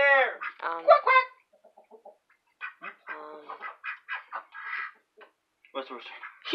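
Chickens in a backyard coop cluck in short, scattered bursts close by, mixed with people talking.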